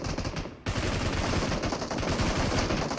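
Gunfire in the mobile battle royale game PUBG Mobile, rapid bursts of automatic shots following a short lull, dense and loud, continuing without speech.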